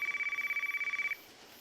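A telephone in a spooky video game rings with a rapid, trilling electronic pulse that repeats steadily for about a second and then stops, leaving quiet background hum.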